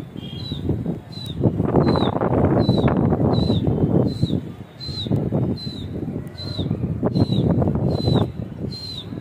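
Kasni pigeons released from a rooftop in a pigeon-flying contest, with repeated soft wing flutters and bursts of flapping swelling and fading under steady wind noise, plus a regular series of short high chirps sounding throughout.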